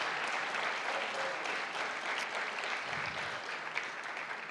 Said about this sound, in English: let's give Chancellor Matos Rodriguez a big round of applause